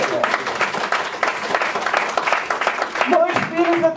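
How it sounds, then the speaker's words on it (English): Audience at a business talk giving a round of applause, dense continuous clapping from many hands, with a voice starting to speak over it toward the end. "I think that deserves a big round of applause."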